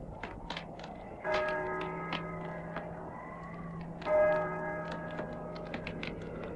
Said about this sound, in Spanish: el triste y monótono doblar de las campanas